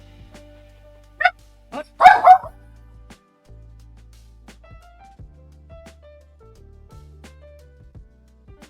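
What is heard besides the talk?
dog barking after the doorbell rang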